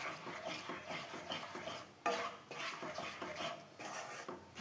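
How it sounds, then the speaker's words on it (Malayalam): Aval laddu mixture of beaten rice being stirred and thickened in a hot pan, a steady scraping, clinking rhythm of spoon against metal, close and continuous with small bumps, no voices. "അപ്പോൾ നല്ലവണ്ണം നമുക്കിതിനെ ഇളക്കി കുറുക്കി എടുക്കണം"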